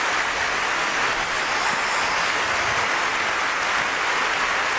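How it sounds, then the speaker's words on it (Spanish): A television studio audience on a Spanish sports talk show applauds the Racing de Santander football club, a continuous dense wash of clapping, loud and sustained throughout with no talk over it. "esos aplausos para el Racing de Santander"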